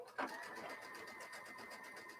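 Sewing machine stitching quilt pieces, a faint steady mechanical whir with a rapid pulsing rhythm, begun by a brief soft knock near the start.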